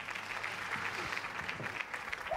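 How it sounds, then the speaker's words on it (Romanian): A comedy show audience applauds, a faint, steady spread of many hands clapping throughout, with no pauses. "Stați aici, fiți atenți, aplaudați!"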